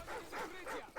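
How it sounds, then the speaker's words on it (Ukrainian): Dogs in the video game Call of Duty 4: Modern Warfare give short repeated barks and whimpering yips, three or four quick calls in a second, faint and somewhat distant. "Собаки."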